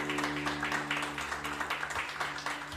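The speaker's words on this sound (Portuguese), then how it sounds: "Você pode dar uma salva de palmas para Jesus?" A church congregation claps for Jesus together, steady dense applause with a rhythmic pulse that stays fairly even throughout, set over a low sustained musical hum and faint voices.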